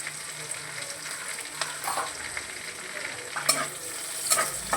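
Food frying in a pan gives a soft, steady sizzle, with a few scraping stirs of the spatula rising now and then.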